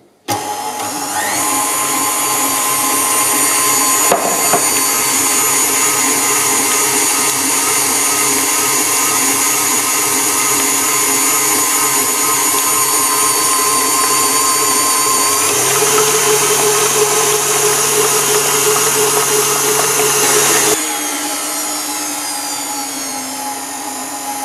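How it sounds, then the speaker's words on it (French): An electric mixer beats eggs with sugar in a continuous loud, close whirring drone that runs unbroken for the whole stretch, shifting speed partway through and again near the end. "Nous allons ensuite blanchir les œufs avec le sucre"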